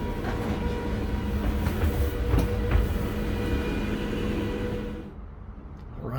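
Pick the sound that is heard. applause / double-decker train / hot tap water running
double-decker train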